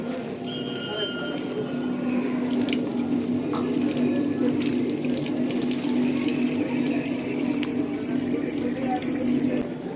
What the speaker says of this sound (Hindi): ये टंकी बनी हुई है हाथ धोने के लिए, धो लो हाथ।